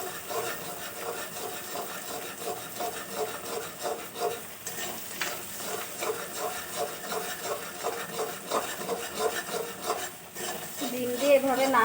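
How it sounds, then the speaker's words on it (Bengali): Two eggs stirred into a pan of already fried, cooked ingredients for a flattened-rice (chira) dish, giving a steady, close scraping and soft sizzling rustle that runs without pause and with no talking. "ডিম দিয়ে এভাবে নাড়তে থাকবো।"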